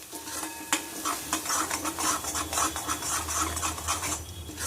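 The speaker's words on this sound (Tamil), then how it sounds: "அடுப்பை ஆஃப் பண்ண பின்ன நம்ம ஒரு மிக்ஸ் பண்ணி எடுக்க போகிறோம்." A spoon stirs Andhra-style yellow cucumber chutney in a kadai after the heat is switched off, giving close, repeated scraping and rubbing strokes in an uneven rhythm.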